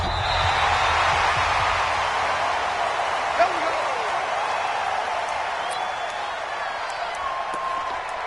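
Stadium crowd in an NFL video game match between the Detroit Lions and the Arizona Cardinals, a steady broad roar of cheering holding at even loudness throughout, with a game commentator talking over it.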